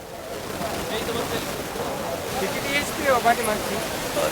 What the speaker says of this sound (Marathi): तीन एच पीची मोटर सबमर्शिबल मोटर जोडलेली आहे आणि स्वाधार पंपावर ही तीन एच मोटर समोर पाहता तेवढं पाणी मारत आहे